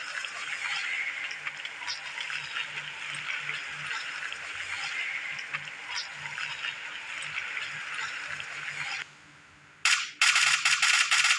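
Gunfire in a battle royale video game comes as scattered sharp cracks over a constant hissing ambient bed, followed after a brief drop by a rapid, loud burst of shots near the end.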